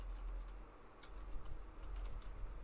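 Typing on a computer keyboard while writing code, a quick run of light, close key clicks over a low steady hum; no talking.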